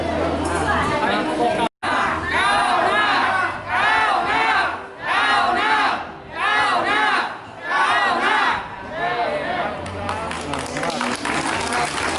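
A large crowd at a political rally for provincial council candidates in Sisaket, Thailand, shouts and cheers in rising, chanting waves, loud and continuous, with a brief cutout near the start.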